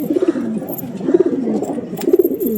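A pair of Normadi pigeons cooing nearby, with three loud, low, rolling coos spaced about a second apart and faint rustling between them.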